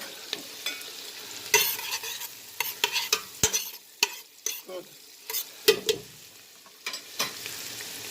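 Scallions caramelizing in a pan for Jamaican callaloo rice, with a low sizzle under frequent sharp scrapes and clacks of a spoon stirring, irregular and close.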